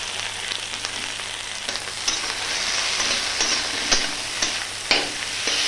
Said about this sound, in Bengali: সমস্ত মশলা দিয়ে ভালো করে আমি ভেজে নিচ্ছি